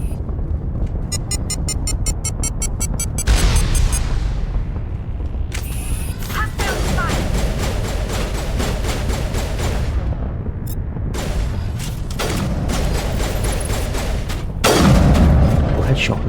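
Missile blasts in Mass Effect 1 Legendary Edition, several heavy booming explosions with rumbling tails spread over the stretch, mixed with mechanical game noise and rapid metallic pulses, loud and close.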